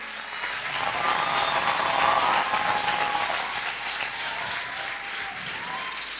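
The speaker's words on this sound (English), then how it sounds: "A big round of applause for him." Sustained applause from a crowd at a debate organisation's tenth anniversary celebration in a hotel ballroom in Kigali, steady clapping that swells and then holds for several seconds with no talk over it.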